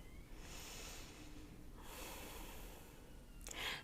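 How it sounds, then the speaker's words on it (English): A deep breath out during a hip-opening yoga stretch: a soft, close, airy exhale through the nose, a quiet rush of breath ending in a slightly stronger puff. "Big breath out."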